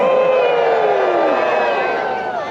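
A large outdoor crowd at a Dickens holiday festival cheers and shouts continuously, a dense wall of voices with a few whoops rising above, loud and close, tapering slightly toward the end.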